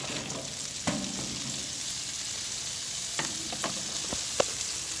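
Vegetables tossed onto a buttered Blackstone griddle hiss in a loud, even sizzle that carries through, with a few faint scrapes and taps of a spatula.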